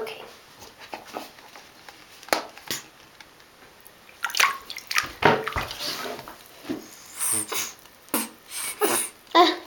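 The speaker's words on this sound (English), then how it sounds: "I'm just giving her a bath" Water runs and splashes in uneven bursts during a dog's bath indoors, with drips and clattering between the louder gushes.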